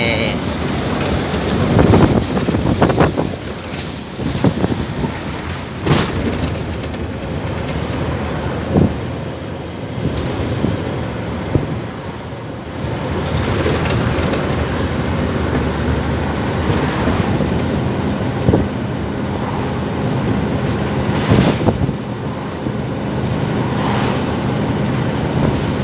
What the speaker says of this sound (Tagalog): Lakas ng hangin dito, kala mo may bagyo.